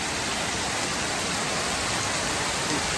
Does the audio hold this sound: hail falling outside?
yes